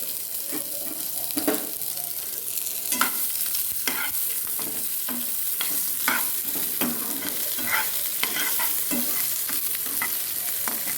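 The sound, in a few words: onion frying in hot oil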